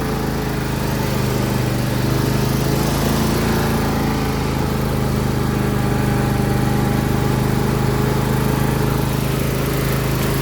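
A John Deere L118 lawn tractor engine runs at a steady, loud drone close by, an unbroken mower hum with no change in pace throughout.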